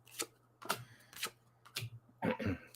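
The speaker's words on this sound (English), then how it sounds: "He always loves it when I'm shuffling cards." A deck of playing cards is shuffled indoors in several short, crisp riffling bursts separated by brief pauses, close and fairly quiet over a faint steady hum.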